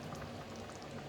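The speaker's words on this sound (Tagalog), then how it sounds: "And I let it boil for 5 minutes." Chicken and vegetable soup boiling in a pot, an even, steady bubbling with soft popping, close and quiet, no voices.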